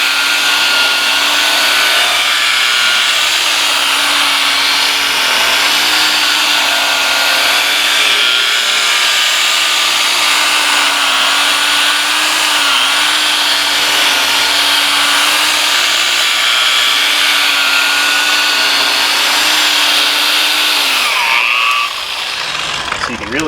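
A power tool spins a polishing pad over a hazy car headlight lens, giving a steady, loud whir with a rising pitch as the speed increases, then it stops near the end.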